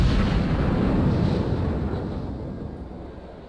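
Heavy naval shells striking warships in World of Warships: a deep, rumbling explosive roar that starts loud and slowly fades away, with no talk over it.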